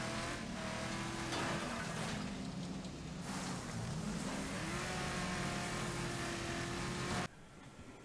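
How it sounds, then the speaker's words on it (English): Cars collide in a Wreckfest video game race, with engines droning steadily and tire noise throughout under a dense, loud mix that cuts off abruptly near the end. "That little crash worked out quite well in my favour."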